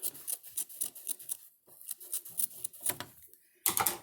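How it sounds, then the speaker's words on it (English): Small scissors snip open a quilt seam on a table runner in a quick series of crisp close cuts, a short pause, then a final rapid burst of snips. "Taking a pair of scissors, smaller scissors than normal,"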